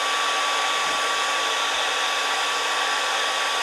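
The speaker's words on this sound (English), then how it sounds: "I'm going to see if heating it up with a hairdryer is enough." A hairdryer blowing hot air onto the cape of a 2026 Mattel DC Super-Villains Batman action figure, a loud continuous whirring hiss with a steady motor whine throughout, close by and uninterrupted.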